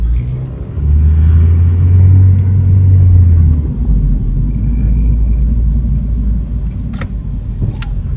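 A Honda Accord drives on a road, heard from inside the car as a loud, steady low engine and road rumble with a brief swell early on and a few faint clicks near the end.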